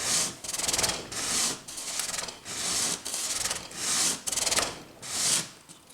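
Sanding a bone nut for an acoustic guitar, with rhythmic back-and-forth rubbing strokes, about seven of them, each a bright hiss with brief pauses between, close and fairly loud.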